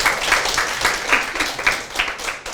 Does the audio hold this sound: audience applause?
yes